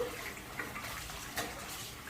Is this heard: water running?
yes